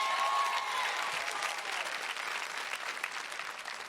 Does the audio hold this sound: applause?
yes